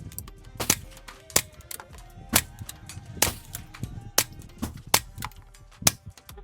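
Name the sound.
22 rifle shots through Warrior Systems Legionary suppressor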